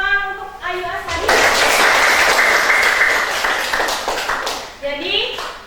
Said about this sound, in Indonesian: Oke, beri tepuk tangan untuk Ayu Ashari.